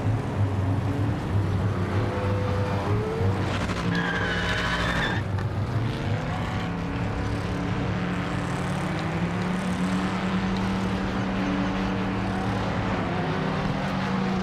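A race car engine in the Rennsport racing game drones and shifts pitch through a qualifying lap, tyres skidding at moments, steady and fairly loud with no talk over it.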